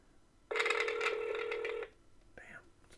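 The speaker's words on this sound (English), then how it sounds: "Let's call Will first" A phone places a call, with a fast burst of dialing tones followed by a short ringback chirp, loud and close with no talk over it.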